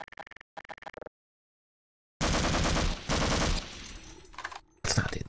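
SMG fire from Half-Life played inside Garry's Mod: clipped bursts of rapid shots, a gap of silence, then a long loud sustained volley and a final burst.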